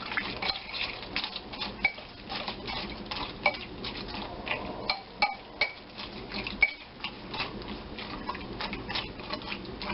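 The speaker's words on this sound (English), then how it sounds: "We stir that in." Stirring ingredients in a bowl for a Thanksgiving dish: a steady run of close scraping and clinking of utensil against the bowl, with scattered sharper knocks, continuing throughout without talk.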